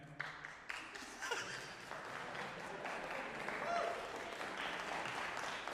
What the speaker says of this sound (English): Why are you guys clapping?